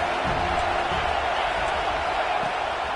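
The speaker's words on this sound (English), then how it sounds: "Decibels rising as the crowd gets behind this defense on third down." A stadium crowd in College Football 26 roars in a steady, dense wash of cheering noise on third down, continuous and loud with no break.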